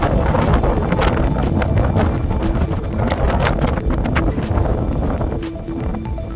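Strong wind blows across the microphone at Sulby Lake, a continuous low rumbling buffet with gusty surges, loud and close, with faint scattered knocks beneath.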